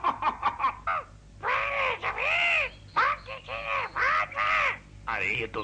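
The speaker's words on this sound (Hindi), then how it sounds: "अरे ये तो मीना का तोता है।" A cartoon parrot squawks repeatedly in harsh, loud caw-like bursts with short gaps, over a faint background from an animated Urdu-language episode.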